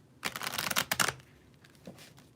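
A deck of cards is riffled in one quick burst of rapid, crisp flutters, close by, then a couple of faint taps and handling noises.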